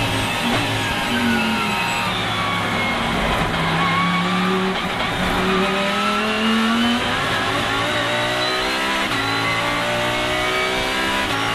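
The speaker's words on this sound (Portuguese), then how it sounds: "coloca aí como que funciona um câmbio engate rápido de corrida aí." A race car with a quick-shift racing gearbox revs hard and climbs through its gears, a loud continuous engine roar with rising pitch sweeps and brief breaks at each shift.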